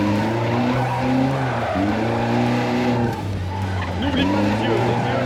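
A gymkhana car sliding through spins, its engine droning steadily with tires squealing and scrubbing across the surface, loud and close, while a person talks over it.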